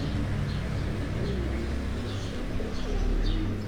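Breeder pigeons in a cage at a rural dera near Pindi coo in soft, repeated rumbling calls, several birds overlapping close by with a constant low hum behind them.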